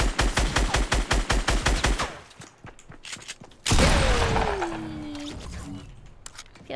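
Sniper rifle shot in the Fortnite video game, heard among a rapid run of loud, evenly spaced gunfire bursts, followed by a heavy blast and a falling whistling tone.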